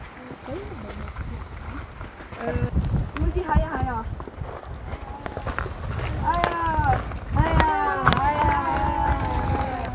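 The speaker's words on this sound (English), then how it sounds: "There's some kind of mountain race run" Runners in a mountain race passing along a trail in the Pyrenees, footsteps and movement building from about the midpoint, mixed with crowd chatter and voices throughout.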